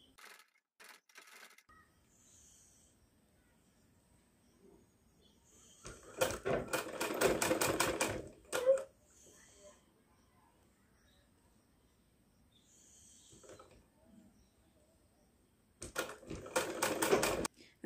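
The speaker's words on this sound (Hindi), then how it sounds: "अब जो हम ये यहाँ पे ऐसे रखेंगे और सिलना स्टार्ट करेंगे यहाँ से" A sewing machine stitches a sleeve in short bursts of fast rattling, quiet and close, separated by pauses with faint handling clicks.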